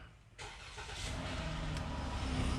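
A rental Chrysler, Jeep or Dodge with a faulty TIPM, no radio and no CAN bus network, cranks briefly and catches, then settles into a close, steady idle that swells slightly toward the end.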